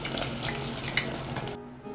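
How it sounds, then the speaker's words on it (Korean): Fish cutlets drop into preheated deep-frying oil, giving a steady, close broadband sizzle and bubbling that runs for most of the moment before cutting off abruptly near the end. "생선가스를 넣고 튀기겠습니다"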